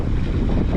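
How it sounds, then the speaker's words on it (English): Strong wind roaring across a lake with whitecaps during a canoe trip, a steady loud rumble buffeting the microphone close up with no voices. "the wind has kind of changed a little bit directions"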